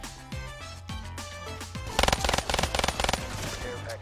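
Automatic gunfire in Black Ops 3 rattles out in rapid bursts, with a dense, loud run of shots in the second half, over game music and sound effects.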